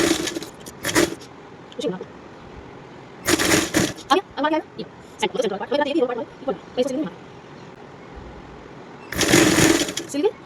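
A domestic sewing machine runs in several short loud bursts, stitching lace onto fabric for a little girl's umbrella-cut top, with someone speaking between the runs.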